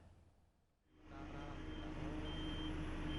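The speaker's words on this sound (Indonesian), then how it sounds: "Alat berat dan truk dikerahkan untuk proses perbaikan di TPU Rorotan, Jakarta Utara" Trucks and heavy equipment at work repairing a cemetery plot, TPU Rorotan in North Jakarta, a low diesel rumble swelling up after a quiet start into a steady loud engine drone.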